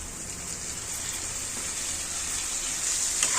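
Tomatoes hit hot oil in a pan while egg masala rice is cooked, a steady close hiss of sizzling that swells slightly toward the end, with no voices.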